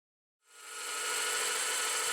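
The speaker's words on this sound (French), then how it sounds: "Je commence un premier perçage pour enlever de la matière, pour faciliter le travail avec la défonceuse." Power drill boring into a guitar body to hog out wood for pickup cavities, starting abruptly after a short silence and then running as a loud, steady, close whir.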